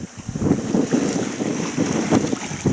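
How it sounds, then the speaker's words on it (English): Steady wind buffets the microphone aboard a sailboat along a coast, a continuous rushing roar with low gusty rumble and faint water wash beneath, without any talk. "But wind keeps steady now at the moment, coming from 130 degrees."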